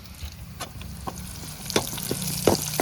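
Small shallots and cut green chillies fry in hot oil in a pan for a Kerala toddy-shop style chicken dish, a steady soft sizzle broken by sharper crackles and pops, close up and without speech.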